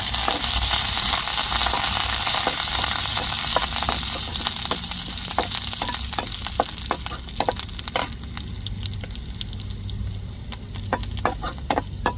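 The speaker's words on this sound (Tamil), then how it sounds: "இப்போ கருவேப்பிலை சேர்த்துக்கிறோம்" Curry leaves crackle and sizzle in hot oil while tempering for an egg curry, a dense spattering frying noise with sharp pops throughout, close and steady, no voices.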